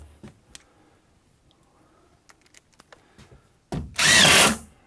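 An impact driver fires screws into wood during a workshop partition wall build, heard as one loud, close burst of whirring and hammering near the end after a stretch of quiet ticks and small knocks.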